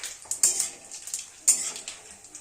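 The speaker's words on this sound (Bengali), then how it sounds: "দারচিনি লবঙ্গ এলাচ ও গোটা জিরে সমস্ত উপকরণ গরম তেলে একটু খুব ভালোভাবে নাড়াচাড়া করে নেব" Whole cinnamon, cloves, cardamom, cumin, dried red chillies and bay leaf stirred in hot oil for a spicy chicken curry, with a few sharp metal scrapes and clinks of a spatula against the pan over a faint sizzle.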